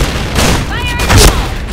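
Gunfire from the first-person shooter Point Blank comes as a short, loud burst of shots and booms over a clip under two seconds long, mixed with a player's voice.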